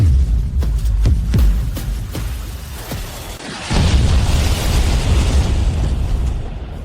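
A powerful shell explodes as a dramatic sound effect, a series of heavy thuds giving way to a deep rumbling blast that surges loud and sustained.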